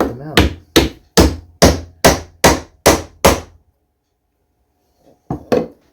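A wooden mallet, just made in a woodshop, strikes repeatedly: eight sharp, evenly spaced knocks close up, then silence and two fainter knocks at the end.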